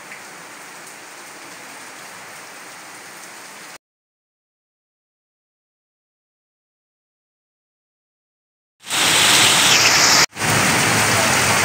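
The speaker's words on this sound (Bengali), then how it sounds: "খুব সুন্দর বৃষ্টি হচ্ছে এখানে।" Heavy rain pours down steadily, loud and close, then cuts to a long silent gap before returning even louder and denser.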